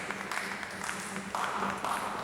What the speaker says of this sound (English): let's give a warm a round of applause to Prof. Dr. Shen